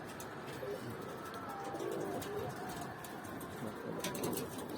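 Homing pigeons coo in soft, low repeated calls amid a steady outdoor background, with faint chirps scattered throughout.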